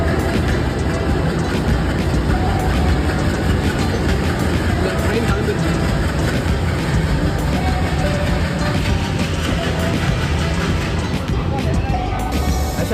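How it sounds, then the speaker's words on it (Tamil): Twin ALCO diesel locomotives haul a Tirunelveli–Sengottai express train in India as it gets moving, a loud, steady engine and wheel rumble throughout with a person talking over it. "ரெண்டு இன்ஜின் போட்டிருக்காங்க ஜியோசி ஆல்கோ ஸ்டார்டர் கொடுத்துட்டாங்க ஆங் கொடுத்துட்டு வண்டி இப்போ ஸ்டார்ட் ஆயிடுச்சு"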